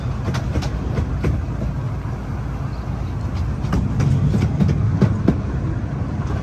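Romney, Hythe & Dymchurch Railway miniature train rumbling steadily close by, with rhythmic clickety-clack of wheels over rail joints and a low continuous running noise as it slows to a stop.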